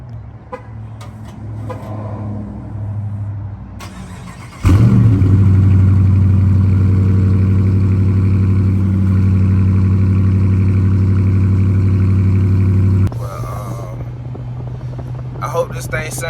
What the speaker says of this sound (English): I'm gonna let y'all hear it start up real quick.